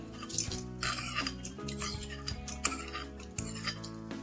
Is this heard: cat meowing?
no